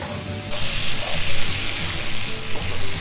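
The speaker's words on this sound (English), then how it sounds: "So this has been cooking for good 5 minutes, and I've been pan roasting it" Mutton with onions pan-fries in a non-stick pan with a close, continuous sizzle that swells after a brief softer start and keeps crackling steadily.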